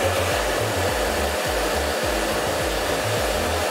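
A handheld hair dryer blows hot air through short hair in a steady, loud, close whoosh with a low fluttering hum from brush strokes, no talking.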